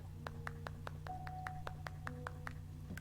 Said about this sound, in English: Let me just go ahead and do the clap emoji